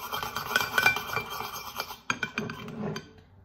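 A spoon stirs and scrapes in a dish, with quick clinking and rasping strokes that pause and resume before fading out, close and fairly quiet.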